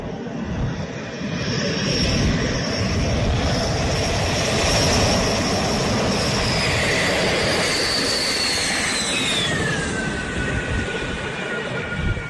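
A Rafale fighter jet lands on the runway at Ambala Airbase, a loud continuous roar of jet engines with a high whine sliding downward as it slows, heard from nearby without voices.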